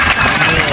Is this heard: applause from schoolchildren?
yes